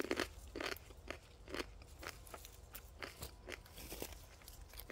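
Repeated crisp crunches of biting and chewing into crunchy, slightly sour home-grown garden produce, close and fairly quiet, with a steady irregular rhythm and no talking.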